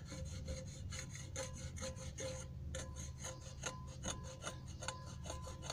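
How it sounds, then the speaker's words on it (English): A fingernail pressed through a wipe rasps against dried food on a dish, quick repeated scraping strokes, faint and close, with no voices. "I'll just take my nail in the wipe and scrape it off"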